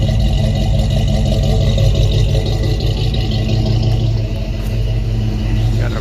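Exhaust of a 1979 Chevy C20 truck engine idling steadily, a loud, continuous low rumble close to the tailpipe with slight fluctuations and no talking.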